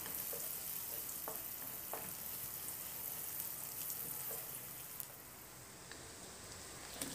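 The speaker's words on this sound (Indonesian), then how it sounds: "Masukkan juga bawang putih. Kita tumis hingga setengah matang." Garlic stir-fried in a pan for Indonesian capcay makes a faint, steady sizzle, with occasional light clicks from stirring, easing slightly softer toward the end.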